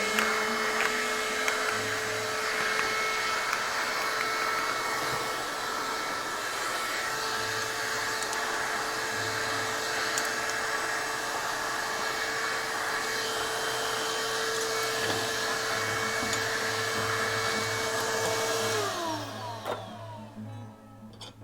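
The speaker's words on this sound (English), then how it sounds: "So we're gonna vacuum up the metal dust here now." A vacuum cleaner sucks up metal dust in a workshop, a loud, steady whining roar that holds for about twenty seconds, its pitch shifting slightly as debris is drawn in, before it winds down and shuts off.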